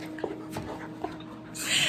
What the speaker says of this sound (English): He's a puppy